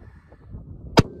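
A rifle shot during a Wyoming antelope buck hunt: one sharp, loud crack near the end, standing alone over faint low rumble and wind.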